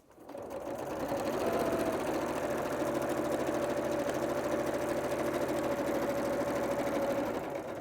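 Janome sewing machine stitching a quarter-inch seam at 1.8 stitch length on a string-pieced quilt block, a steady fast whirring hum that ramps up quickly and runs continuously, close and clear with no talking.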